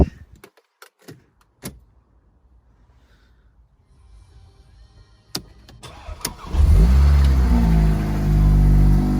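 Keys and a few clicks break the quiet, then a 2020 Mercedes-AMG A45 engine with standard exhaust cranks and catches, settling into a loud, deep rumbling idle with some revving.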